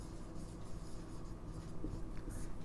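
Chalk or a marker writes on a board during a classroom maths lecture, a quiet run of scratchy strokes over a low room hum.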